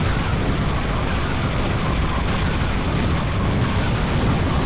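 Missile explosions in the vehicular combat game Twisted Metal 4, heard as a loud, dense, continuous roar of blasts and rumble with no clear gaps between impacts.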